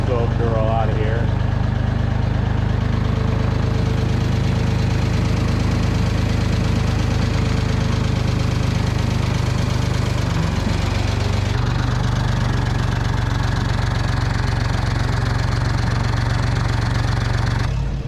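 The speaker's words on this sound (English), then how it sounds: "Get the tractor out of here first before we can get this in here." Engine of a tractor running steadily and loud throughout, a continuous low mechanical drone with a slight shift partway as it is moved, heard at a workshop during a Bobcat 600 repair job.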